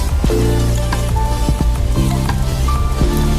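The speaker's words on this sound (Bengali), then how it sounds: "মশলার সাথে নেড়ে চেড়ে খুব ভালো করে কষিয়ে নিতে হবে।" Chicken for biryani fries in a pan with spices and green chillies: a constant close sizzle broken by scraping and clatter as it is stirred.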